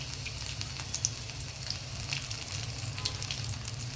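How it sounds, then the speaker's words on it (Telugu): Garlic sizzling in hot oil as the first step of a tempering for dal, a steady crackling fry with small pops, close and fairly quiet, with no talk. "పప్పు తాలింపులోకి ముందుగా నేను వెల్లుల్లి వేస్తున్నాను"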